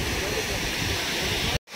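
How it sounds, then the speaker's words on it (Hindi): A waterfall at Beri Ganga in Jodhpur during the rains gives a close, dense, steady rushing roar that cuts off abruptly near the end of the short burst. "ये देखो थोड़ा सा पास से देखो आवाज़, देखो कितनी ज़बरदस्त लग रही है झरने की"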